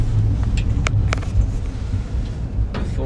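A car drives through the dark at 4 a.m. Its steady, loud, close engine and road rumble hold throughout, with a few faint clicks inside the cabin.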